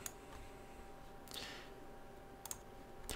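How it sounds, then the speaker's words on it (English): A single computer mouse click on a create account button in a web control panel, sounding as faint, sharp ticks scattered over a quiet room, with a few soft extra clicks. "Then just click on create account."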